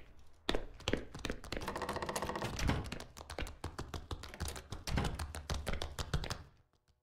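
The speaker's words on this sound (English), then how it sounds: "Hear the other one pitter-pattering." Rapid monster footsteps pitter-pattering in the horror game The Classrooms, a dense run of quick taps and thunks close by, steady for several seconds before trailing off.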